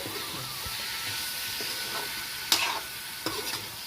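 Prawns fry in a pan on low gas with a soft, steady sizzle and hiss, broken by a couple of sharp clinks of a utensil against the pan, and no one speaking.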